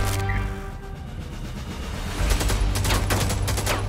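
In Helldivers, bursts of rapid gunfire clatter against heavy armor, dense and continuous, growing louder partway through amid a din of battle noise.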